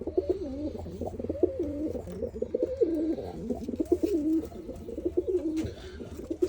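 Gök Ayna Kuyruk pigeons coo in low, rolling, warbling calls that overlap and continue steadily, close by.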